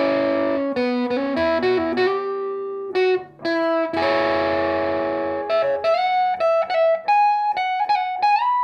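An electric guitar runs through a Lil Trees Studio Friend distortion pedal, playing a sustained, gritty riff of single notes and slides with brief gaps, loud and close with no talking.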